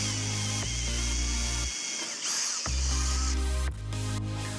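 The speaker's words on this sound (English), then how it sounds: "whenever drilling into a fiberglass boat" A power drill bores holes into a fiberglass boat deck to mount a Minn Kota Ultrex trolling motor, whining steadily and close up, with one brief pause in the middle before drilling resumes.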